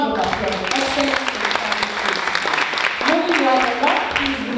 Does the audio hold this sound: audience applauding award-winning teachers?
yes